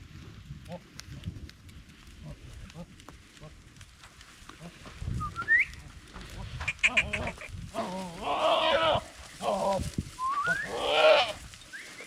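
A goat and sheep flock of Gaddi herders returning from grazing in forest near Hoshiarpur, with scattered bleats rising near the end over rustling and shuffling movement, and people talking in the background.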